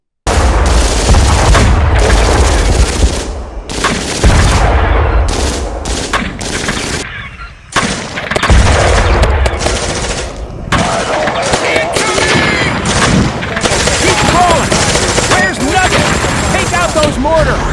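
A war film battle with Marines facing overwhelming enemies: mortar blasts and heavy, rapid gunfire rage almost without pause, loud and dense, with a brief lull midway before the barrage resumes.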